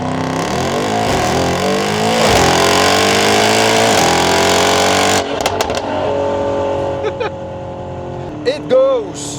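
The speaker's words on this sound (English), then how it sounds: "when you're launching this car with the pedal shifter up, you can raise the RPM in which the car launches" Stage 3 tuned Mercedes-AMG GT63s making 860 hp launches hard, its engine roaring loud and close while revving up through the gears, then easing off to quieter idle and shift sounds near the end.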